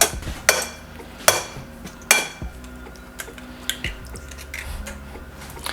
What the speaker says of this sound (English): I'm just going to crack my eggs into it and whisk them until they're nice and combined